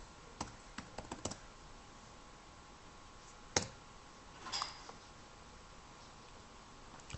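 Computer mouse clicks come in a quick cluster near the start during CAD work, followed by a couple of isolated clicks later, all faint and close in a quiet room.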